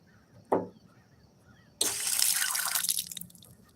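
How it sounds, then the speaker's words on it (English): Water gushes from an outdoor spigot in a steady splashing rush that follows a single sharp knock, heard close up before easing off. "He's called a spigot."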